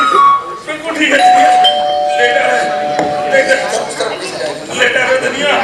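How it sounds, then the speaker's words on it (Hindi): An electronic doorbell chimes with bright sustained tones, sounding several times while people talk nearby. "अरे घंटी बज रही है"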